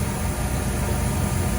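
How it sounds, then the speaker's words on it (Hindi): Large diesel generators running in a ship's engine room, a loud, steady, dense machinery roar that fills the space without letting up, with no voices over it. "ये है जनरेटर, बड़े बड़े जनरेटर।"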